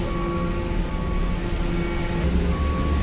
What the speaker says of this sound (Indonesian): Lapangan parkir dermaga 1 untuk kendaraan truk.